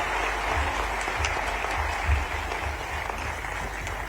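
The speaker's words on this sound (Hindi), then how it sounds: "डॉक्टर मोहन यादव जी का तालियों के साथ में फिर से अभिनंदन करिए" Audience applause at a government capacity-building workshop in Bhopal honouring the chief minister: steady, dense clapping from a large crowd fills the room evenly throughout, with no speech over it.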